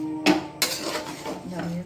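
Rinsed dalia goes into a pan for a vegetarian vegetable dish, with two sharp metallic clanks of a spoon against the pan followed by softer scraping as it is stirred, close and brief.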